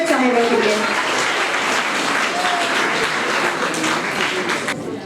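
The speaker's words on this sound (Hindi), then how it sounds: "आप भरपूर तालियां बजाइए मोहतरमा रिजवाना मसरत साहिबा के लिए।" An audience at a poetry gathering applauds a poet, a full, sustained burst of clapping with a faint voice briefly over the start, steady throughout and easing slightly at the close.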